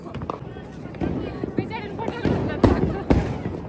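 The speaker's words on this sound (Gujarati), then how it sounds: "વૈશાલે કેટલા ફટાકડા પડ્યા" Firecrackers going off during a festival, several sharp bangs and crackles scattered through the clip, some near and loud, with people talking over them.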